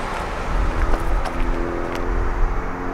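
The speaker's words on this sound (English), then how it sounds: "I'm sure you guys can hear the fans inside the engine bay here." Cooling fans in the engine bay of a 2018 BMW M550i after hard driving give a steady, close whooshing hum with a low rumble underneath, continuous and unbroken throughout, with no talking.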